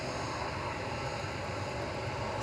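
Gulf Air Boeing 787-9 Dreamliner jet at Manchester Airport, a continuous even engine roar heard at a distance, steady in loudness throughout with no voices.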